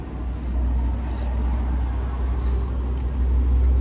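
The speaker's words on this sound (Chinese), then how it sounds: "晚上就在马路边，这边货车挺多的，" Trucks pass along a roadside highway at night in rainy weather, a steady low rumble of heavy engines and tyres that grows slightly louder, heard from a nearby roadside shelter.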